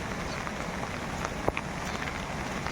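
Steady rain falls across a waterlogged, flooded village road with muddy pools, a dense continuous patter with one brief sharper splash midway and no voices.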